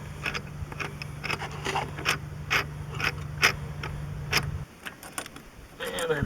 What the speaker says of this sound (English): that nut is just turning right off